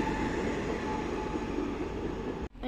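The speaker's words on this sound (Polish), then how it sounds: "I mamy odjazd pociągu" A regional Elf electric multiple-unit train departs Bydgoszcz Główna station, a loud, steady rumble of wheels and traction on the rails that fills the scene, cut off abruptly near the end.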